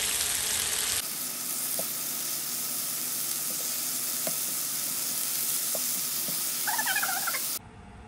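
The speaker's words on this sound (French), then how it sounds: "et les faire cuire quelques minutes sur chaque face" Chicken skewers fry in a pan with a dense, steady sizzle that stays close and loud throughout. Faint ticks and pops sit under it, with a brief squeaky sound near the end, and there is no talk.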